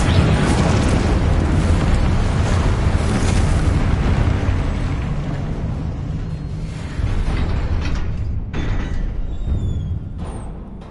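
A Confringo blasting spell from the wizarding game Hogwarts Legacy explodes in a loud, sustained roaring rumble. The blast slowly thins and fades, with a few crackling bits near the end.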